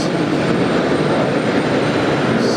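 A LATAM jet airliner takes off at JFK with a loud, continuous broadband engine roar that holds steady throughout, heard alone without talk.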